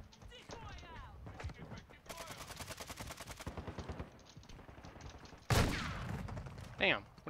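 Bursts of Lockwood rifle fire in a Modern Warfare 2 match, with rapid rattling volleys and single sharp cracks, then a loud close blast near the end, heard alongside game sounds and brief talk.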